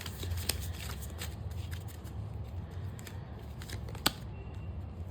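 Tarot cards are shuffled and drawn, giving a soft, continuous papery rustle with a few sharp card snaps, close and quiet over a low background hum.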